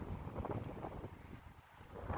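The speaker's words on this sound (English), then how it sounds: "If it is a windy day like this" Steady wind buffets an outdoor microphone on a windy day over a lawn, a continuous low rumbling roar with gusty swells and no voices.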